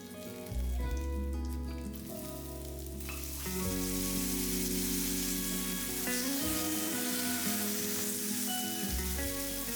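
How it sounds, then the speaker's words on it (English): Whole red chilies, curry leaves, chopped onions and coconut sautéing in coconut oil in a pan, a loud, continuous close sizzle with stirring scrapes and crackles throughout. "Then I added whole red chilies and curry leaves, sauteing them before adding roughly chopped onions and coconut."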